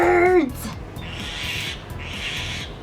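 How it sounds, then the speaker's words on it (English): Bird calls ring out, a short rising-and-falling cry at the start followed by repeated bright chirping phrases that come and go, fairly close and clear with no talk. "Birds!"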